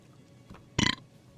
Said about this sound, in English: Oh, sorry, I had to burp.